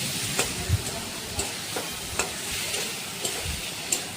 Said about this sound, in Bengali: এবার ভেজে রাখা আলুর টুকরোগুলো দিয়ে দেব। আবারও ভালো করে একটু কষিয়ে নেব।